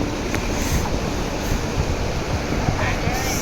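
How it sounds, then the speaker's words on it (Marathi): Streams and waterfalls flow in a monsoon ghat landscape near a dam, a loud, continuous broadband rush mixed with wind buffeting the microphone, heard up close for a few seconds. "सगळे नाले धबधबे सगळे वाहते."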